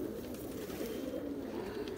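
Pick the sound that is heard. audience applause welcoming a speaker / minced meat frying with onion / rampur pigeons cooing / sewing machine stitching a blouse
rampur pigeons cooing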